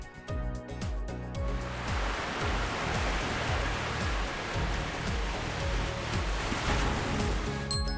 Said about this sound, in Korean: 파도 소리,